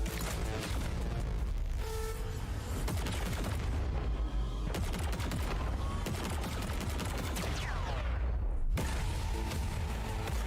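Charged tracking stasis guns fire in Destiny Lightfall, a dense, loud barrage of overlapping shots, booms and thuds that runs continuously with a rising whine near the end.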